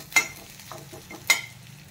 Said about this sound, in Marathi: फोडणी छान झालेली आहे।